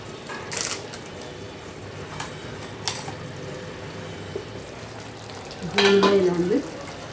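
Butter bubbling in a pan for a side dish served with poori. A soft, steady sizzle carries a few light clinks and ends with a louder scraping stir.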